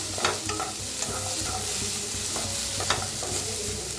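Chopped tomatoes and coriander stems sizzling in hot oil in a pan, a steady close-up fry hiss with occasional stirring scrapes, no voices.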